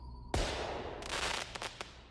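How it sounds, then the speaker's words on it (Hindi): A sudden deep boom bursts out as a firework rocket explodes inside a ruined temple, followed by a rumbling, crackling tail and a few sharp pops as it fades. "एक बहुत ही जोर के धमाके की आवाज आई"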